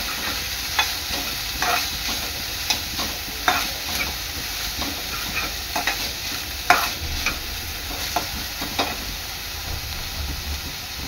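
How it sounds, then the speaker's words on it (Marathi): Two vegetables, carrot among them, sauté in a hot pan with a constant close sizzle, punctuated by repeated scraping stirs and taps of a spatula at an irregular, unhurried pace. "दोन्ही भाज्या चांगल्या 3 ते 4 मिनिटं परतून घ्यायच्या आहे"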